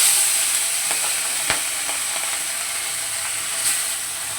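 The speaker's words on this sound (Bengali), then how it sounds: "এবার এই তেলের মধ্যে আমি পুঁটি মাছগুলোকেও ভেজে নেব" Puti fish fry in hot oil with a loud, steady hiss close by, broken now and then by brief pops and spatters, and no voices.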